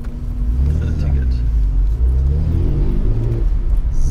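Opel Speedster driving the Nürburgring with an instructor aboard, its engine rumbling steadily and loudly from inside the cabin while people talk over it.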